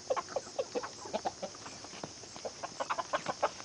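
Chickens, a rooster chasing a hen, clucking repeatedly in short, busy bursts at a moderate distance, with a faint high electrical hum underneath.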